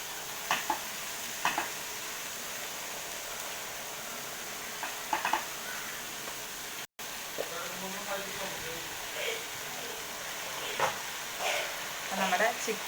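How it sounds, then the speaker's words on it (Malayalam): Chicken pieces coated in spice powders fry over a low flame in a pan for chicken curry, giving a quiet, steady sizzle broken by scattered scraping stirs, while a voice talks faintly now and then. "നമ്മുടെ ചിക്കൻ ഇട്ട് കൊടുത്തിട്ടുണ്ട്. എന്നിട്ടൊന്ന് ഇളക്കാം."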